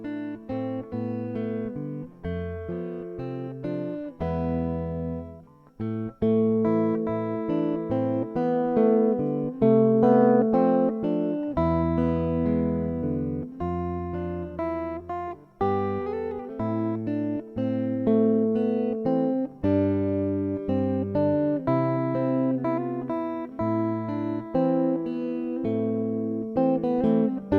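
Solo guitar playing God Rest Ye Merry Gentlemen, a steady tune of plucked notes and bass strings over about half a minute, clear and close with no talking.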